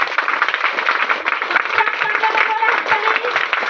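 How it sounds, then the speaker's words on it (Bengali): An audience at a Christian prayer gathering claps loudly in unison, a dense, steady wash of hand claps lasting throughout, with faint tonal sounds mixed underneath. "পিতা পরমেশ্বর যিশুর নামে একবার জোরে হাত তালি"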